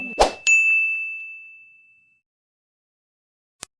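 A notification bell sound effect: one bright metallic ding that rings out and fades over about two seconds, followed by a short faint click near the end, with no voices.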